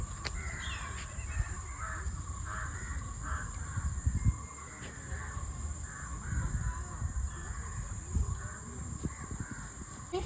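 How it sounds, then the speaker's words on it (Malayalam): Crows cawing repeatedly among other birds in a large city botanical garden park in Bangalore, a steady layer of calls over a low outdoor rumble, moderately distant, with no talk. "ഇതൊക്കെ ഇവിടെ ഫുൾ പെരുന്തുകളും കിളിയും എല്ലാം ഉണ്ട്."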